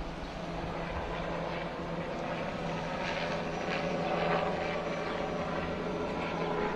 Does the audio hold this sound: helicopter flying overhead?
yes